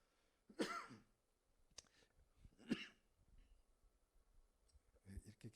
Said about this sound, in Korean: 이렇게 기침이 나는 중.